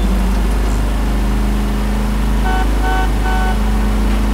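A car horn in the L.A. Noire video game blares in three short, loud honks near the end, over a steady, heavy engine rumble and street noise.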